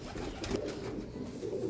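A Teddy Golden breeder pigeon gives low, close, continuous cooing, a soft throaty warble rising and falling over a short stretch.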